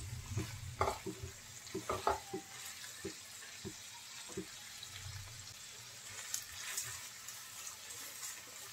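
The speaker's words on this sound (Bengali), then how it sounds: "এখন সব কিছু একত্রে ভালো করে একটু ভেজে নেব।" Prawns fry with onion in a pan for a ridge gourd and prawn bhaji, a quiet sizzle beneath a burst of scraping, knocking stirs early on, then lighter sizzling with occasional taps and no speech.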